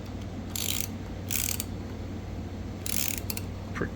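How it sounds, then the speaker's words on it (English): Turbo mounting bolts with washers are tightened with a ratchet on a Mazda RX7 turbo build, giving several bursts of quick metallic clicking over a low steady hum. "so maybe I'll grab a washer and then tighten them down"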